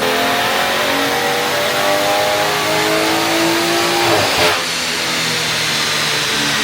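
A tuned BMW with a stage 2 plus high pressure fuel pump revs hard on a dyno at around 100 mph, the engine note rising steadily, loud and close, then cutting off sharply near the end.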